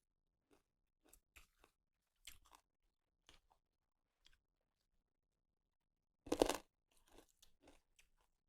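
Someone chews a crunchy pounded cucumber salad, giving scattered soft crunches and then one loud, close burst of crunching, followed by quieter chewing clicks with no voices.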